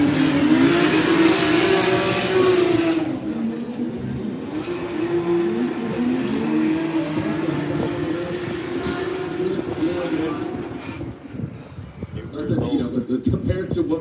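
A Toyota Supra Mark 4 and a Mark 5 drift during a Formula Drift warm-up in Utah, a loud engine wail with tyre noise dropping after the first few seconds into a steady rumble, with a commentator talking over it.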